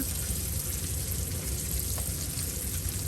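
Cumin, chopped onion, garlic and bay leaf fry in oil with a dense, continuous sizzling hiss, close and steady throughout, with no talk over it.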